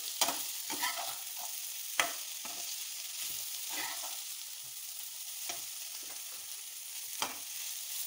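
Quiet, steady sizzling of vegetables frying in a little oil in a pan for hakka noodles, punctuated by occasional scrapes and taps of a ladle stirring.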